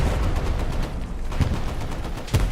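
Grenades going off during a competitive Hell Let Loose match, a dense run of loud, close in-game blasts and gunfire-like bursts with a heavy booming low end, one sharp explosion standing out near the end.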